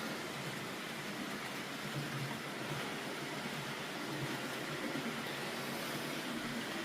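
An N gauge model railway parcels train running on a layout, giving a steady, even rumble and whir that carries on without a break, fairly faint and with no one speaking.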